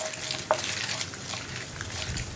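Coconut pieces sizzle steadily in a pan while being stirred, with one brief clink of the spoon, for a kadala curry.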